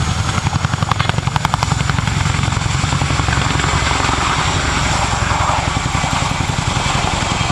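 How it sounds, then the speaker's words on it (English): An airshow aircraft powered by two Honeywell engines makes a high-performance departure at Cosford, a loud, close, pulsing rotor thump over a heavy engine roar that holds steady throughout. "the aircraft will conduct a high-performance departure"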